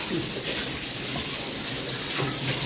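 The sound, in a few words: water running from tap while washing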